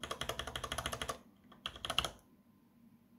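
Fast, even keystrokes on Cherry MX Brown mechanical switches, a steady burst of close clicks that stops, followed by a few scattered taps and then quiet.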